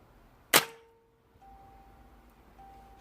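A Falcon FN19 air rifle fires a single Superfield pellet: one sharp, loud crack that fades quickly, followed by faint electronic beeps from nearby instruments.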